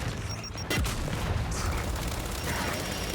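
A grenade goes off in the Gears 5 video game: a sudden loud, close blast followed by a sustained rumbling roar of debris and noise.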